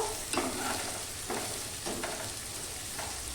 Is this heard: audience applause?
no